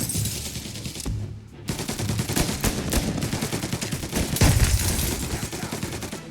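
Dense, loud gunfire rattles almost continuously in Mafia Definitive Edition, with rapid bursts layered over each other and no pauses, like a sustained firefight.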